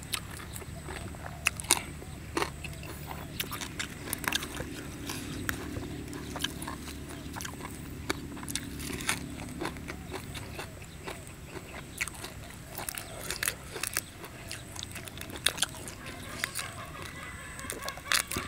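Grilled salted river prawns being bitten and chewed up close, with crunchy shell-cracking bites recurring through a steady noisy background and some faint talk.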